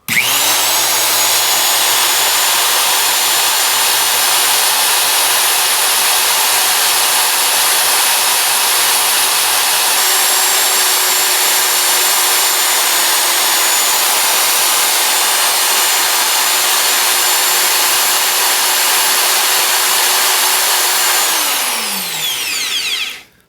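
A vintage Milwaukee 0801-2 1/4-inch 240V corded electric drill runs at full speed with a loud, steady high whine that holds for about twenty seconds, then winds down as the trigger is released.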